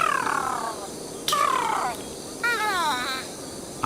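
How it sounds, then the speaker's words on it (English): A bird in the point-and-click game Sherlock Holmes vs Arsene Lupin chirps in three short bursts of sweeping, descending notes over a steady ambient hiss, with short pauses between them. "I hear a bird, Holmes."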